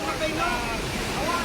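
Rushing floodwater from heavy rain in the Cebu highlands, a loud, steady broadband roar of fast-moving water sweeping past a bridge, continuous and close without pause.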